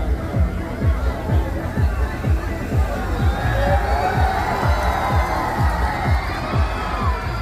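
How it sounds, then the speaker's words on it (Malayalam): A crowd cheers and roars at a cart race in Pookkottur, a loud sustained din with a steady, rapid low thumping running underneath. "നിറഞ്ഞ കയ്യടി കട്ടെ, ഉയരട്ടെ കയ്യടി, ആകാംക്ഷയുടെ ആവേശത്തിന്റെ കയ്യടികൾ ഉയരട്ടെ"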